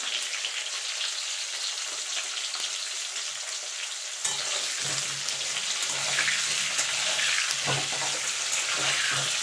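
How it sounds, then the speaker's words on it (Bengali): Potatoes fry in hot oil for an aloo dum, a steady bright sizzle that carries on evenly throughout and grows slightly denser partway, with faint stirring scrapes and no talking. "এবার আলুগুলোকে লাল লাল করে ভেজে নেব।"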